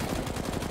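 Rapid automatic gunfire from the video game CS:GO is shot at a wall, a dense, continuous burst that fills the short moment.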